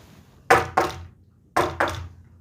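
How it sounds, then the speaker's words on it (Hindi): Someone knocks on a door twice, each time two firm, hollow thuds in quick succession, close and distinct against a quiet background. "क्योंकि उसके दरवाजे पे"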